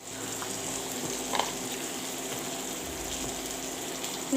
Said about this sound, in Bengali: তারপর দেব টমেটো, তারপর দেবো ধনে পাতা, এগুলোকে ভালোভাবে নেড়ে দিব।